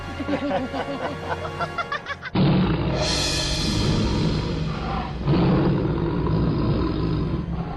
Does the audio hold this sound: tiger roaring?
yes